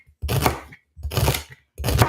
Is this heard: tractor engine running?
no